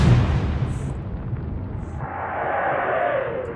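Naval gunfire from warships in Atlantic Fleet strikes a ship, a continuous heavy rumbling roar of explosions and impacts that swells and rolls on without pause.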